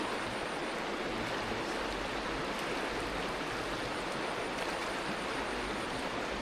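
A deep, cold river with a strong current makes a constant, even rushing wash, soft and unbroken, with no voices.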